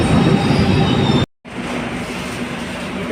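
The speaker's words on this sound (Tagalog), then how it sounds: "May train na po. Sasakay na." Train noise on a platform as a train pulls into a station, a loud steady rumble with faint wheel squeal, broken by a brief silent gap before the rolling sound resumes.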